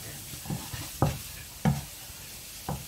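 Seasoned mushrooms stirred in a frying pan, with a few distinct scraping strokes against a low, steady sizzle, each stir sounding close and fairly soft.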